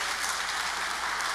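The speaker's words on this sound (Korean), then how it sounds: "여러분 다시 한번 큰 박수 부탁드리겠습니다" Audience applause after a lecture at a Rotary academy event, steady dense clapping from a roomful of people, even and sustained throughout.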